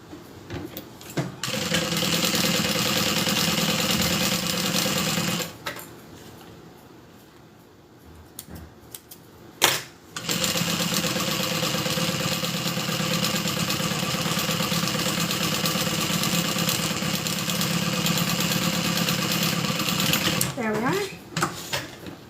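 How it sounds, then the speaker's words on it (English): A sewing machine stitches along the outside edge of a handbag, joining the front and back pieces of the Kiana bag; a steady, close mechanical whir runs in long bursts with a brief pause in the middle. "now I'm just going to sew along the outside just to combine these two pieces together"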